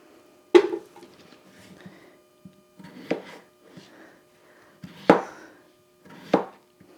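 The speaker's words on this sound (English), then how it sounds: "you're just gonna cut the potatoes up for boiling" Four sharp knife chops cutting potatoes on a cutting board at uneven intervals, close and crisp, with faint kitchen clatter between them.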